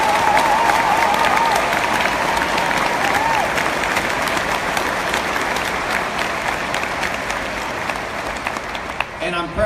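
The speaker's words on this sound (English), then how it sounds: "would you please join me in a round of applause for Christopher Dito." An audience at an LSU engineering commencement ceremony applauds a named graduate with sustained, even clapping that fills the hall throughout, with a faint voice from the speaker system briefly audible over it.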